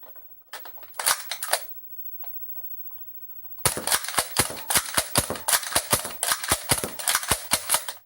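Nerf Strongarm toy blaster fired in rapid fire: a few scattered snaps, a pause, then a fast, loud string of sharp pops close by.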